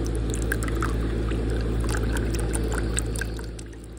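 A shaken cocktail is poured from a shaker over a glass outdoors, giving a continuous liquid trickle with light splashes for a few seconds before it tapers off.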